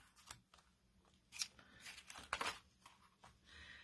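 Scissors snip paper circles for a pop-out card in a few short, close crunching cuts spaced irregularly, faint overall, and no one talks.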